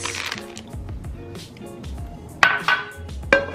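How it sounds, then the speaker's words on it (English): Walnuts sautéing in a pan, heard as soft rattling, shuffling and scraping of nuts and utensil against the metal, with a few sharp clinks near the end and only a faint sizzle underneath. "so now we are going to saute the walnuts"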